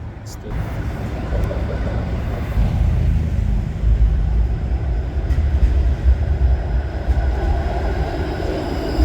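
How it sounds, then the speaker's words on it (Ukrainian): A Toronto streetcar tram arrives at a stop with a low, continuous rolling rumble that grows slightly heavier, with faint background voices. "Ну що, і остання поїздка на трамваї. Зараз він під'їде."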